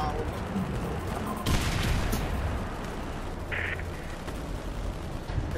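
Sniper rifle shots ring out in Warface, from a hard-difficulty Icebreaker mission using BOLT sniper rifles: a couple of sharp cracks stand out over dense, noisy in-game battle ambience.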